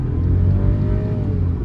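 A Volkswagen Polo GT TSI accelerates, its engine heard from inside as a loud, steady low drone that holds through the short stretch, with no talk.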